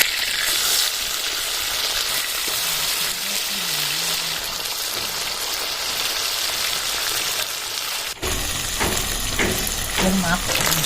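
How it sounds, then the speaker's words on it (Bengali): Pabda fish frying in hot oil in a pan, a dense close sizzle that runs throughout, with a brief clatter near the end as the fish are turned and the frying continues. "মাছগুলো এক পাশে ভাজা হয়েছে আর এক পাশে উঠিয়ে দিচ্ছি"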